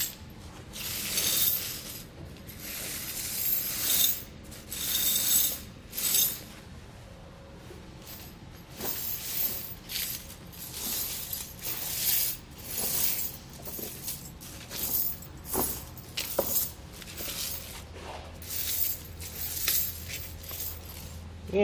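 Titan Chain snow tire chains handled and fitted onto a tire of a 2020 Chevrolet, with repeated metallic jangling and clinking in irregular bursts up close. No one speaks.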